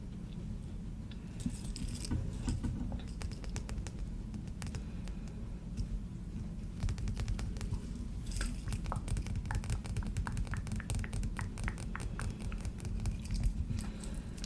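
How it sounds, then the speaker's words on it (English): Tumbled polished stones fall and clink against one another in quick, bright clatters, close and crisp over a low steady background hum, continuing in irregular bursts. "I like just hearing the tumbles fall."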